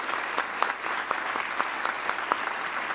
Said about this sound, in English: Big round of applause for this crew.